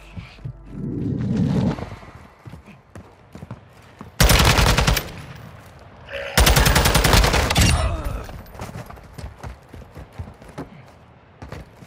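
Automatic gunfire in Call of Duty Modern Warfare II DMZ, with two long loud bursts of rapid shots and fainter scattered fire and movement between them, no talk.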